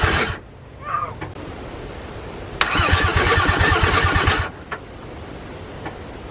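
A VW VR6 engine cranks in two bursts, a short one, then a longer rapid chugging starter whir lasting almost two seconds, close and loud, with brief clicks and quiet gaps between.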